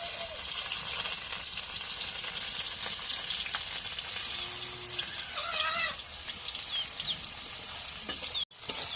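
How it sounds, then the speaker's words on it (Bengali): Chopped onion sizzles and crackles steadily in hot oil in a home kitchen, a loud continuous frying hiss with faint stirring, cutting off briefly near the end. "এখন করে আমাদের শেষে তেল দিয়ে দিই এখন পেঁয়াজ কাটা দিয়ে দিই"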